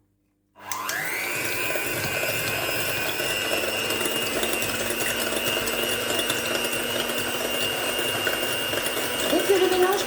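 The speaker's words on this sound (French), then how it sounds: "je monte mes œufs en neige en rajoutant progressivement le sucre" An electric mixer starts up and runs steadily, whipping egg whites with sugar into a meringue for a dacquoise, a continuous whirring motor drone that rises slightly near the end.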